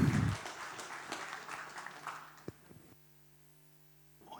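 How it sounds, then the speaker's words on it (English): Brief round of applause from a small audience at a developers meetup, fading over about three seconds into a quiet electrical hum from the room's sound system. "Give a round of applause."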